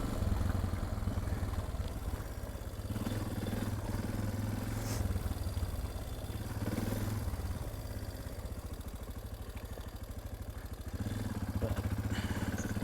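A Suzuki DR650 dual-sport motorcycle rides a dirt trail, its single-cylinder engine chugging steadily with rises and dips in throttle, plus clattering from the bike and terrain, heard up close throughout.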